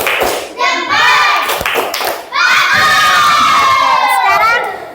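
Fourth-grade schoolchildren in a classroom performing the 'tepuk jempol' clapping chant, loud shouted group voices chanting in unison with thumping claps, rising to a sustained high-pitched cheer near the end.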